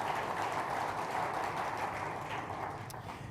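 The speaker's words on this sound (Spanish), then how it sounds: "dale mejor aplauso que tú puedas ahí al Señor por su palabra" A church congregation applauding during a sermon, a dense, steady wash of clapping that holds at an even level throughout.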